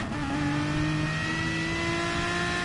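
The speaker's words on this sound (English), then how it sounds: "Can we turn this engine off?" A race car engine at a Le Mans 2.4 Hours race holds a steady, loud, buzzing drone at a near-constant pitch throughout, close by and with no talk over it.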